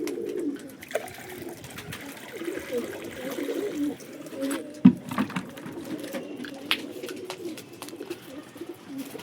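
Pigeons on a rooftop give low, repeated coos at moderate volume, with scattered light knocks and rustles, one sharp tap in the middle and faint background noise.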